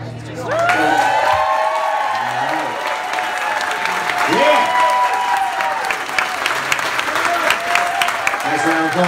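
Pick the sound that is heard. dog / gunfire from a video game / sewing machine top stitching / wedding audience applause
wedding audience applause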